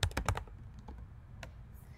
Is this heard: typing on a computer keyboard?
yes